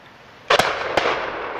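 Shotgun fire on a beaters' day game shoot: one sharp, loud blast followed by a second report a moment later, then a lingering outdoor echo, with no talk.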